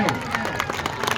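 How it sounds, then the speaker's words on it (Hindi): Crowd clapping and cheering at a traditional Malakhro wrestling match in Chechro, Pano Aqil, Sukkur: dense, steady applause from many hands with a loud voice calling over it. "सबके हाथ में देकर ताली बजाओ"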